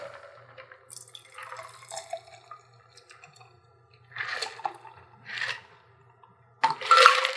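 Liquid is poured while a cocktail is made, giving a few short splashing and dripping bursts separated by quiet gaps, with a louder pour at the end.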